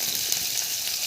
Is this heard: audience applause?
no